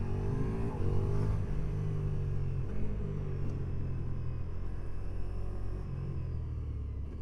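A 2025 Ducati XDiavel V4 motorcycle being ridden, its engine giving a continuous rumbling drone that rises and falls slightly in pitch as it revs, heard moderately loud without any voices.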